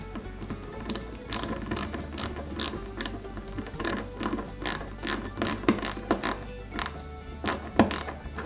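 A tiny screw being driven into a 1/8 scale KITT Pontiac Firebird model car gives a run of close, quick ratcheting clicks in short bursts, steady throughout.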